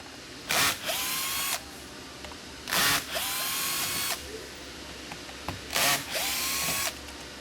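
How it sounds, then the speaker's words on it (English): A power drill backs out screws from a SleepSafe bed in three separate bursts, each a loud whirring spin of about a second ending with a ratcheting wind-down, close by with quiet pauses between. "start to take out all of these screws in here, so you can now release these out"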